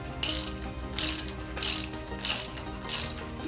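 A ratchet wrench backs a bolt out of the coolant housing of a restored EG Honda Civic, close and clear, with five evenly spaced bursts of rapid clicking, one stroke after another.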